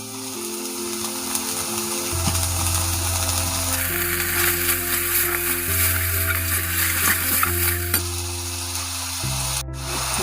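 Slit green chillies sizzle and fry in a pan of boal fish curry, a loud, steady hiss that swells and settles over several seconds, with occasional stirring scrapes and no talking.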